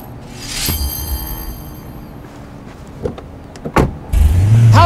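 Car driving in the mobile game City of Outlaws, with engine and road noise, a door-like thump, brief mechanical whirs and clunks, then a louder sustained engine hum near the end.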